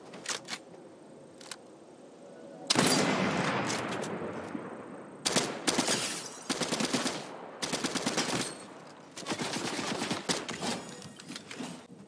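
Gunfire in the video game Fortnite: several rapid automatic bursts of close, sharp shots, separated by short quiet gaps, then more clusters of firing.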